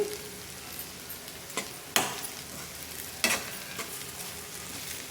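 Okra fries quietly in a pan with chilli powder, a soft, steady sizzle punctuated by a few sharper scrapes and clatters as a spatula stirs it, with no voices.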